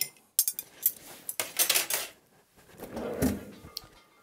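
Ice clinks and rattles against glass as a cocktail is stirred, with irregular bursts of light clattering and a few louder knocks, fairly close and with no talking.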